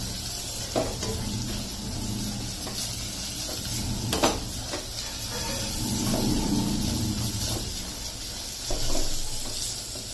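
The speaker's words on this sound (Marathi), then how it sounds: "आता मी आलं लसूण पेस्ट आहे ना ती टाकते, ती पण एक जरा थोडीशी भाजून घ्यायची" Ginger garlic paste sizzling and roasting in a hot pan, a continuous close frying hiss broken by a few stirring scrapes and clinks.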